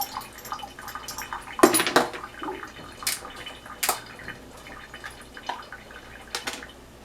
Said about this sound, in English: we need to rinse out this tablespoon because it's got sugar in it